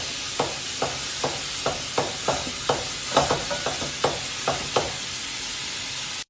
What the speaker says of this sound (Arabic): بحمس اللحم اول شيء على نار عالية لين يتقلى